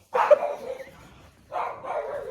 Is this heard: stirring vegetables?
no